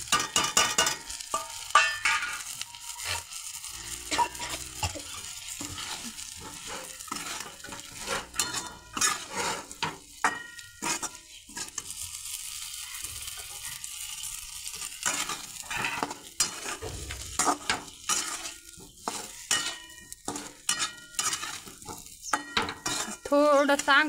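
Eggplant mixture being stir-fried in a pan, with a utensil repeatedly scraping and clinking against the metal over a low sizzle, steady and close throughout with no talking.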